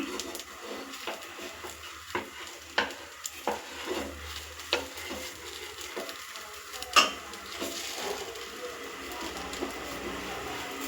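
Ridge gourd roti roasting in oil on a pan, a soft continuous sizzle broken by sharp clicks and scrapes of a utensil against the pan.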